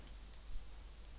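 A computer mouse clicks an OK button during a software install, giving two faint, crisp clicks close together in an otherwise quiet room.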